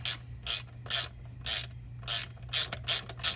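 A wrench ratchets on a nut and bolt while a Takegawa exhaust is fitted to a Honda Monkey: a series of crisp, close mechanical clicking bursts in an uneven rhythm, about ten short strokes with brief pauses between them.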